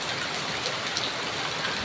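Steady rain falls continuously, a dense hiss of drops close by with no voices.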